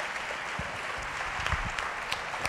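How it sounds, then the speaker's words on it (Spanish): Audience applause at a carnival association cheque presentation during the final of a Carmona carnival contest, a steady distant patter of many hands, fairly quiet, with no voices over it. "Un fuerte aplauso para la Asociación Cariza y para la Asociación Carmonense del Carnaval."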